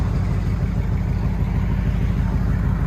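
A Procharged Ford Mustang GT 5.0L V8 with headers and stainless exhaust rumbles steadily, a loud, deep, continuous exhaust drone held close to the car without talking.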